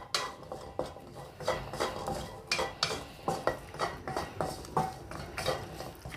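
A utensil scrapes and taps rhythmically against a pan while shallots and garlic stir-fry, with regular metallic strokes over a soft sizzle, close and steady.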